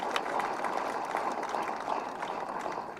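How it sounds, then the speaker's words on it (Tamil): Steady audience applause at a Tamil political speech, a dense wash of clapping hands lasting throughout, moderately loud and continuous with no clear talk over it. "அந்த அத்தனை பத்திரிகையாளர்களுக்கும் கைத்தட்டு கொடுங்க"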